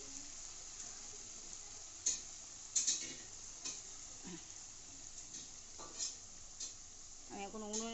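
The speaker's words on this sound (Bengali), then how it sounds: "তো বন্ধুরা আমি এখন পিঠেটা ভাজছি।" Pitha rice cakes frying in a pan on a home stove, a soft continuous sizzle broken by occasional clinks and scrapes of a utensil, with quiet talk at times.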